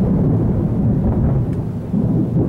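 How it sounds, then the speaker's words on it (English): A loud, low, continuous thunder rumble with no distinct crack, heavy and sustained throughout. "That was thunder."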